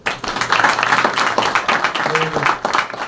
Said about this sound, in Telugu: విశ్వాసం ఉన్న వాళ్ళందరూ కూడా ఒకసారి చప్పట్లు కొట్టండి.